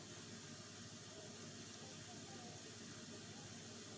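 Steady hiss of steam escaping from a cooking pot on a gas stove, pressure-cooker-like, continuous and fairly close, holding at an even level throughout with no talk over it.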